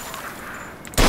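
A single sharp gunshot cracks out near the end, fired at an old car wreck in Mafia II, after a quiet stretch of low ambient rumble.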